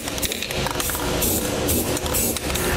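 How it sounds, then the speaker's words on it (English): A continuous hissing spray of clear paint onto bare metal under a 2018 GMC Sierra, loud and close, with slight fluctuations and some mechanical rattling. "I like to use a little bit of clear spray paint just to help protect the bare metal"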